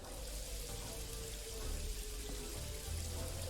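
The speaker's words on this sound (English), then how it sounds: "Sounds like it's raining outside, but it is raining outside" Steady rain patters and hisses continuously at low volume in the video game Paradise Killer, an even wash of drops with no voices.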